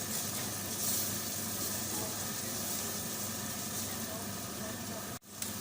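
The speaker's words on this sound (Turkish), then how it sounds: "Kıyma biraz pişsin." Minced meat sizzles steadily in a hot pan while green bean stew is being started, a continuous close frying hiss broken by one brief dip near the end.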